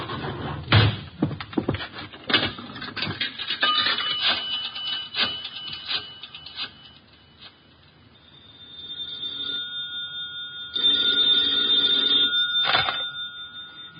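A telephone bell rings in an old-time radio detective drama, a steady electric ring repeating in bursts near the end, preceded by clunks and handling noises, close and fairly loud with no talk over it.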